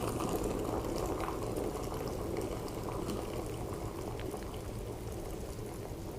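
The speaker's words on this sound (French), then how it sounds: "je vais rallumer un petit peu ma bouilloire pour être sûr que j'ai de l'eau qui va être à 100 degrés" An electric kettle heats water up to a full boil, producing a steady, loud, continuous rumbling roar with bubbling texture that barely changes throughout and has no pauses or voices.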